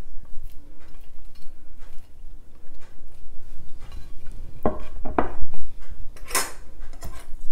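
Bhel puri ingredients with potato, onion and fresh coriander being mixed in a bowl, with soft scraping and clinking of a spoon against the dish, growing louder in a few brisk strokes near the end.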